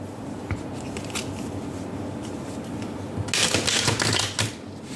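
Oracle cards from a Prism Oracle deck are handled up close, with soft shuffling and light papery taps, then a denser burst of rustling and flicking as a card is pulled out.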